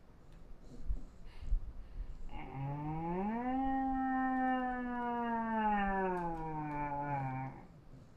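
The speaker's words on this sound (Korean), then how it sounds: "불났다니까 소방차가 오고 있어." A fire truck siren wails up and then slowly falls away over several seconds, fairly clear over faint background noise, after a few soft knocks.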